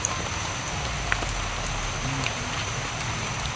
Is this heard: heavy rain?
yes